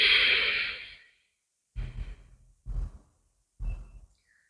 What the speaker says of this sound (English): Inhale through that pipe. Close your mouth. Exhale through your nose.